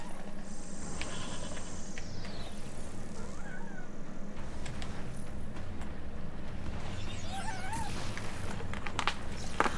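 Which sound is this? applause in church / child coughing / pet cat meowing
pet cat meowing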